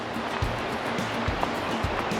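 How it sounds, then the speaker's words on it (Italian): Running water beside a white gravel road in a wooded valley, a steady rushing wash with occasional soft thumps, moderately loud and unbroken, no talk. "qui al nostro fianco sentiamo il rumore dell'acqua"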